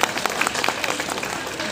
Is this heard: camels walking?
no